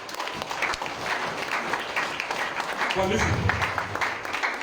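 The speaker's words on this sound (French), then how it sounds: "Let's clap for ourselves." A church congregation claps for itself, a steady wash of applause from the crowd with a voice briefly speaking over it partway through.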